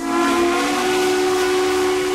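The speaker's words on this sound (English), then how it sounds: "And then the whistle" Loud, steady whistle from an RO scale model Holiday Express train, a sustained hissing tone with strong harmonic ringing held for the entire stretch without pause.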